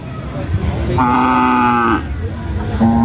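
A cow at a Thai cattle market gives a loud, close, sustained moo lasting about a second, then starts another, amid people chatting and the general babble of the market.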